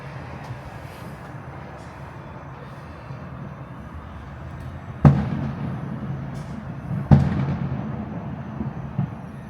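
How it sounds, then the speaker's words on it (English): Fireworks at Epcot bursting in the distance, seen from a Disney Skyliner gondola: two sharp booms about two seconds apart with rumbling tails, over steady cabin hum and murmuring passengers. "Absolutely love watching the fireworks from the Skyliner."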